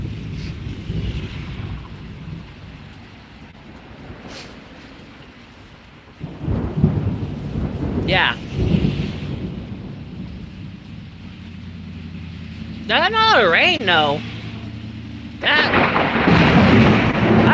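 Close thunder from several lightning strikes during a storm, heavy low rumbles swelling around the middle and again near the end, with rain and wind noise throughout and a person briefly talking.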